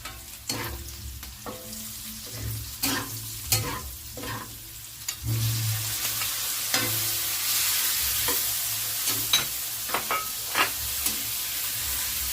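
Tomatoes for pakbet sauté in a hot pan with a loud, continuous sizzle, punctuated by repeated scraping and clacking strokes as a utensil stirs and presses them.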